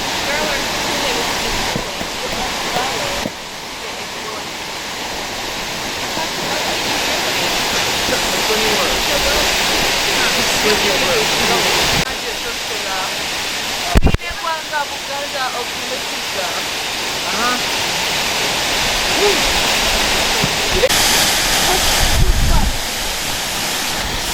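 Sipi Falls waterfall roaring as a steady, dense wash of rushing water that fills the whole scene, with people talking faintly underneath at times.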